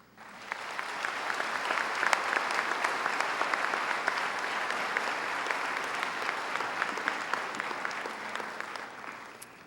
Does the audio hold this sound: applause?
yes